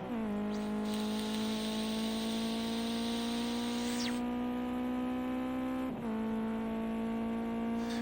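A Ginetta Junior race car in qualifying at Oulton Park holds a loud, steady engine drone with a rising pitch. A quick shift-like dip cuts in partway through, then the note climbs on again close by.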